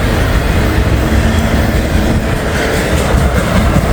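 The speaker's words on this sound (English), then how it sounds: "we got a DPU coming through. Working hard, man." A hard-working DPU locomotive on a freight train of auto racks rumbles past close by, a loud, continuous roar of engine and rolling wheels.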